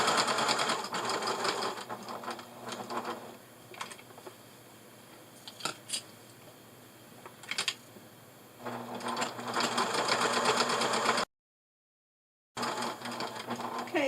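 A sewing machine stitches a dog bandana in quick bursts of rapid mechanical whirring, pausing between runs for a short back stitch, close and clear with brief clicks between the bursts.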